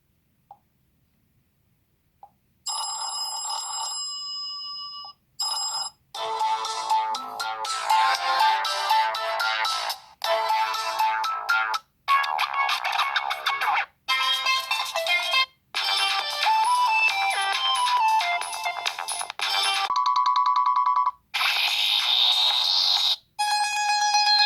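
A series of ringtones plays loudly through the speaker of an Umidigi A3 smartphone, each short melody or chime stopping abruptly before the next one starts.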